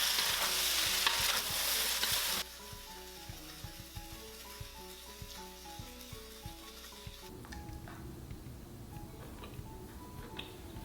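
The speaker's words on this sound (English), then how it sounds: "Return the beef and broccoli. And we're just gonna mix everything together." Beef and broccoli are stirred through a thickened sauce in a pan, with a loud burst of sizzle at first, then quieter, steady scraping and tapping of a utensil against the pan.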